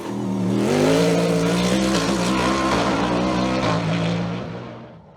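A Norma M20 FC CN+ race car engine roars past at high revs on the Col Saint-Pierre hill climb, its pitch rising and shifting through gears with a tire squeal, loud and close before fading away.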